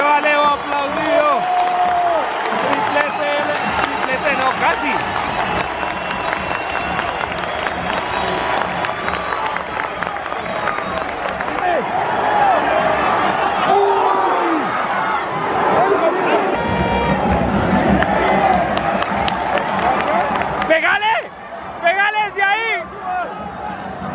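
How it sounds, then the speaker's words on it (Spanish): Stadium crowd at El Campín applauding as a player leaves the pitch during a Millonarios match against Defensa y Justicia, a loud continuous roar of clapping and cheering heard from the stands, with nearby spectators talking. "Se va Leo aplaudido"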